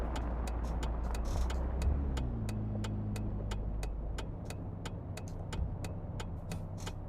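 A Lexus GS350 driven with a manual gearbox through city streets in the City Car Driving simulator, its engine humming steadily and shifting pitch as the car moves, with regular ticking clicks repeating throughout.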